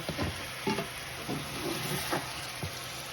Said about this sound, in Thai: ทีนี้เราก็จะผัดไปเรื่อยๆให้สุกนะคะได้คนเข้าด้วยกัน